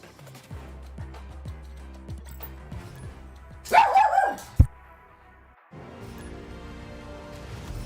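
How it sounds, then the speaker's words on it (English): Dogs at home bark and yip in a loud burst of several sharp barks mid-clip, rising over game music and clicks from a Marvel Snap session. "Our dogs do be borking though."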